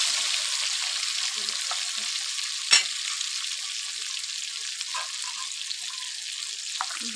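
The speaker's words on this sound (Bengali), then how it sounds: "দিয়ে দেবো চিকেন। ভালো করে নেড়ে নেবো।" Chicken fries in a pan with a continuous bright sizzle, a sharp utensil clack near the middle, and intermittent stirring scrapes, close and steady.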